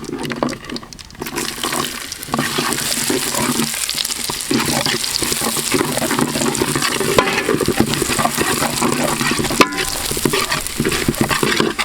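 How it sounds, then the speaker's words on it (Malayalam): Beetroot being sautéed in butter with red chilli for a beetroot chicken roast, a continuous loud sizzle with stirring scrapes in the pan, no talking. "ബീട്രൂട്ട് ആയി നന്നായിട്ടൊന്ന് വഴറ്റിയെടുക്കണം. ഞാനിപ്പോൾ ബട്ടറിലാണ് ഇത് ചെയ്യുന്നത് കേട്ടോ."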